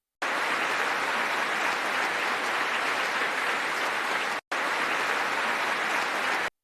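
A crowd applauds at the White House: a dense, steady roar of clapping that runs on evenly and breaks off briefly partway through before carrying on.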